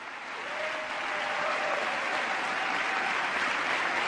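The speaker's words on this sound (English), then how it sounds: "There's Biden clapping" Sustained crowd applause fills a hall during an Obama speech, with Joe Biden among those clapping; a dense, steady roar of many hands that swells slightly after the start and holds loud throughout.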